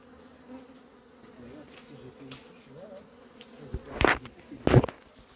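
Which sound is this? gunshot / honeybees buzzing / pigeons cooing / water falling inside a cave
honeybees buzzing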